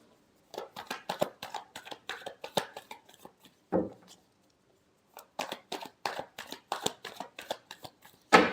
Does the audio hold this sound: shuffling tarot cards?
yes